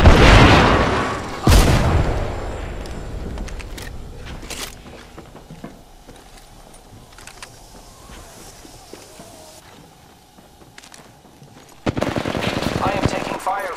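Automatic and single gunfire in the battle-royale video game Apex Legends, loud bursts at the start and again near the end, with quieter shots, footsteps and game effects in between.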